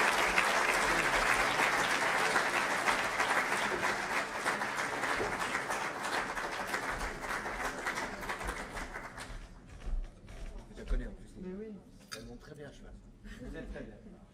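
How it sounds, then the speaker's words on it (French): Audience applause at an awards evening honouring champions, a dense, steady wash of clapping for about nine seconds that thins into scattered claps and faint voices before fading out. "Et je vous demande de l'applaudir."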